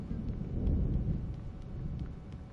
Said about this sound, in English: Thunder sounds real.